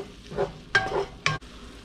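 Garlic sizzles in a pot while a spoon stirs it for smoked sausage chili. A soft steady frying hiss is broken by two sharp scraping bursts from the spoon, close by, with no voices.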